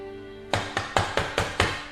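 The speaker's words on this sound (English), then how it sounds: "Knocks on the door." Six firm knocks land on a wooden door in a steady, evenly spaced rhythm, loud and close, with no voices.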